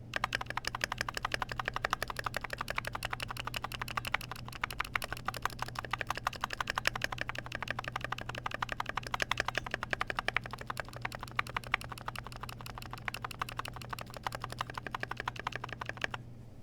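Steady, rapid keystrokes on a GMMK Pro mechanical keyboard fitted with Rainforest keycaps, continuous close-up clacking with no voices over it and a low constant hum beneath.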